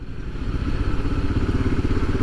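A motorcycle rides on the Gap Road mountain route near Munnar, its engine thrumming close and loud in a steady pulsing rhythm throughout.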